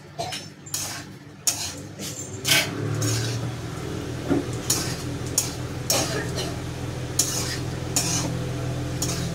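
A spoon stirs and turns vada pav potato masala in a pan with little oil, giving repeated scraping knocks against the metal over a steady low sizzle. The stirring rhythm is uneven and close by.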